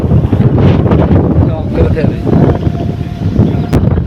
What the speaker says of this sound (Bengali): এরকম বাতাস মনে হয় বাতাসে মানুষ নিয়ে যাবে